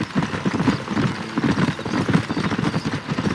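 Horse hooves gallop in a steady, rapid clip-clop rhythm in the Red Dead Redemption video game, close and continuous, with faint game ambience underneath.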